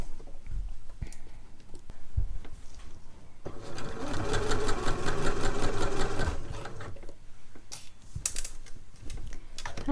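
A sewing machine stitches a caftan's V-neck neckline in a fast rhythmic run of about three seconds, framed by quieter handling and fabric shifting before and after.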